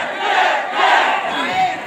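A crowd of Pi Network pioneers at a meetup in Gajah Mungkur, Wonogiri, shouts back in unison, a loud rolling group cry rising and falling in two or three swells.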